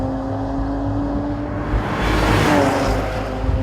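A 2014 Porsche Panamera 4S with a twin-turbo V6 and PDK transmission launches hard in Sport Plus, its steady engine hum swelling into a loud, broad roar of acceleration.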